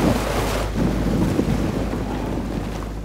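A boat engine strains at full throttle while the hull forces through sea ice off Greenland, a steady low roar and rumble with wind buffeting throughout and no voices.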